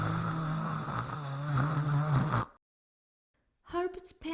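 A voice imitates a monster's heavy, raspy panting in long, steady breaths for a couple of seconds, close to the mic, then a pause and a short burst of speech follows.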